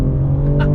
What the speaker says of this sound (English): Let's do another quick acceleration here.